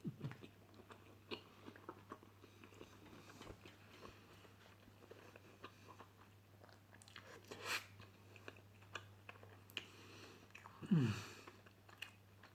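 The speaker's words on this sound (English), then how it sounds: "while I take another bite out of my homemade taco" Biting into a homemade taco and chewing it close to the microphone, with soft repeated crunchy chews and smacking throughout and a brief, low voiced murmur near the end.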